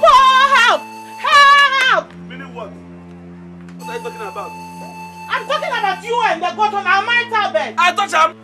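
A goat on a bed bleats loudly, two strong bleats at the start, then after a quieter stretch with a steady low hum a longer run of close bleating cries follows, with voices talking alongside.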